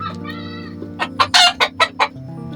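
Chickens being fed cluck in a quick series of sharp, loud calls close by, over a steady background hum.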